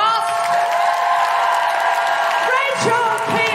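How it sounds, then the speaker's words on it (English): Theatre crowd at the Hammersmith Apollo applauding and cheering for the cast at a live birthday show, a loud sustained roar of clapping with whoops, while tonal music plays underneath. "Can we have a huge round of applause for our whole incredible cast?"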